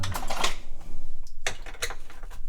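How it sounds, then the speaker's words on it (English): Commodore 128 keyboard being pulled out of its case during a restoration, heard as a run of close clicks, taps and plastic rattles with a brief pause midway, no talking. "So let's just whip this keyboard out."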